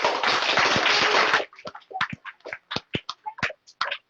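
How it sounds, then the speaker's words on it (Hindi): An audience at a team success celebration in Prayagraj gives a loud, dense burst of applause for about a second and a half, then it thins into a few scattered individual claps and taps. "क्या बात है, जोरदार तालियां होनी चाहिए"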